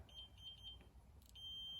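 Short, high-pitched electronic beeps from a multimeter continuity test repeat in quick rhythm, then settle into a longer steady tone, faint and close.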